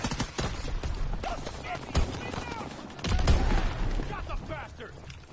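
Gunfire in the Call of Duty WWII multiplayer game, a few sharp shots and bursts popping through the mix while a player talks over them.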